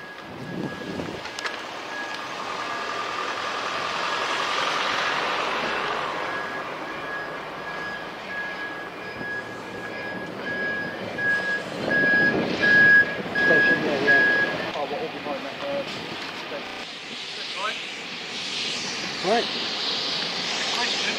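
Lorries reversing at a council lorry depot in Northfleet, with a steady, intermittent reversing beep rising over a broad rumble of engines and yard noise, and voices in the background.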